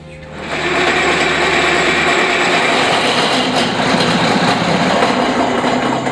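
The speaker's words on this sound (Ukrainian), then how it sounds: "Цей дизель-генератор запускається." A diesel generator in a bomb shelter plant room starts up, a dull low thump giving way at once to a loud, steady, dense engine roar that fills the rest of the time with no voices.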